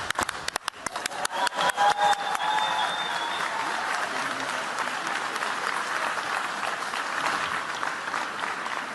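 An audience claps at the Ig Nobel Prize ceremony, a dense, loud burst that rises quickly from scattered first claps into sustained, steady applause that carries on throughout.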